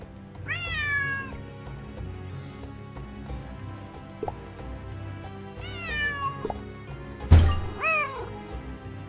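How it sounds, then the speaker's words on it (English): A cat meows repeatedly in the Nancy Drew mystery game Lights, Camera, Curses!, with several drawn-out, rising-and-falling cries spaced across the moment over a steady background of game ambience, plus a sharp thump near the end. "There's that cat again."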